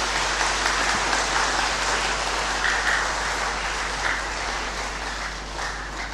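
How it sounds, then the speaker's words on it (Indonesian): A church congregation at a parish anniversary Mass in Sorong claps in steady, sustained applause for several seconds with no talking. "hari ini juga kita tepuk tangan untuk pastor paroki kita, Pastor Paul Tite."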